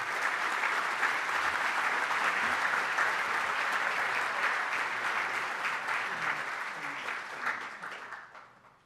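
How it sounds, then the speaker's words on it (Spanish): Audience applause at an international congress on electoral studies, a full even roar of clapping from a large hall that holds steady and then fades out over the last seconds. "Un aplauso para el doctor Julio Kotler."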